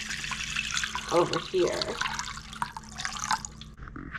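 Tap water runs and splashes while tomato seeds are rinsed in a small container at a sink, a continuous trickling wash with brief speech over it.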